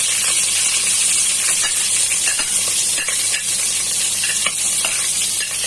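Onions frying in hot oil in a pan already used for potatoes and carrots, for a Kapampangan pork caldereta: a loud, steady sizzle and hiss with light stirring scrapes throughout, no voices.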